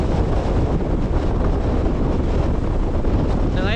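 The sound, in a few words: strong wind on the coast during a super typhoon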